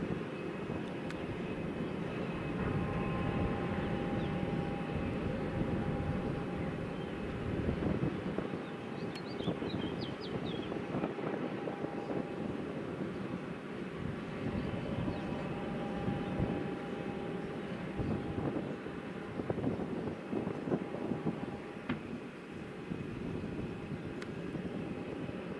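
A TUI airliner on final approach to land at Madeira Airport, its engine roar a broad, steady rumble heard from a distance, mixed with wind buffeting the microphone throughout, with no talk.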